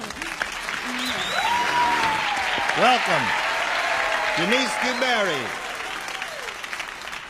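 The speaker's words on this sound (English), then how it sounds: "Polite applause, please." Polite applause from a studio audience on a television show, a steady even clapping bed running under a host's voice, which speaks over it throughout.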